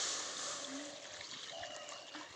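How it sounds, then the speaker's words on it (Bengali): Packet milk pours from a cut bag into a wok, a soft continuous trickling stream that stays fairly quiet and tapers slightly over a couple of seconds. "দুধ ঢেলে।"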